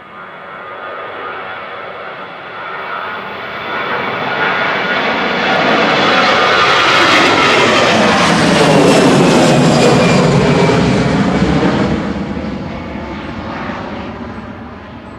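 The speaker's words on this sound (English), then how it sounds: "Next EasyJet on the roll to Lisbon, GEZWD, flight 2209. A320 Classic heading to Lisbon." An EasyJet Airbus A320 Classic rolls for takeoff, bound for Lisbon, its jet roar building from a distance to a loud peak as it passes, then fading away, with no voices.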